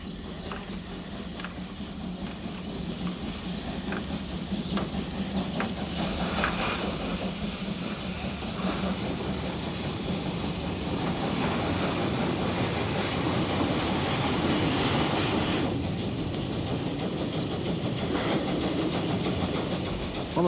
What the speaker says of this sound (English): What matters is that the loco runs smoothly without labouring on a slow climb.